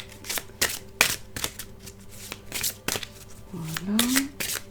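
Tarot cards being shuffled by hand, a run of crisp riffling slaps in quick irregular rhythm, close up, with a brief voiced sound near the end.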